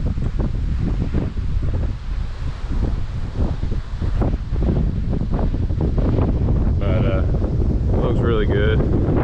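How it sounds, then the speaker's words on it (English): Strong wind batters the microphone in rough, continuous low rumbling gusts outdoors at a concrete job site, with brief voice sounds near the end. "it's super windy."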